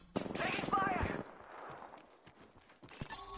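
Gunfire in a PS4 shooter game, a dense burst of rapid shots in the first second, then scattered quieter pops with another sharp crack near the end, mixed with game voice chatter.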